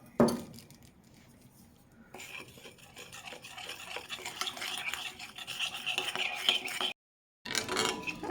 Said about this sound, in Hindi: अब इन सबको मैं मिक्स कर दूंगी